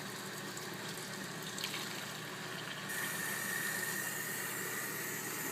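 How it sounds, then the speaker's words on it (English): Tap water pours steadily into a drinking glass for several seconds, a constant hissing rush that grows slightly brighter and fuller partway through as the glass fills, with no talking. "Here's the water coming out of the tap"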